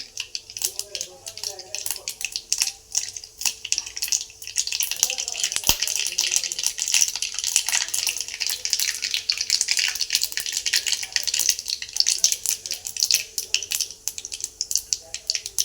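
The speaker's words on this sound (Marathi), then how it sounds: "मोहरी छान तडतडून झालेली आहे आता" A steady crackling sizzle of mustard seeds popping in hot oil, close and continuous, with rapid irregular pops throughout.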